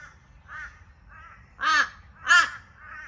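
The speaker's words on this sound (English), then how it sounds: "since I've got my crows here" Several loud, close crows caw with harsh, separate calls, two of them especially strong, and no voices are heard.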